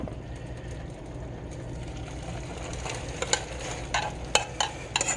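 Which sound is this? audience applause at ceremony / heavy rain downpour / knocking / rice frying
rice frying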